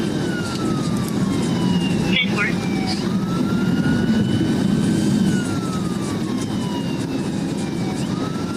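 A police car siren wails during a Georgia State Patrol chase, with long rising and falling tones over loud, steady engine and road noise.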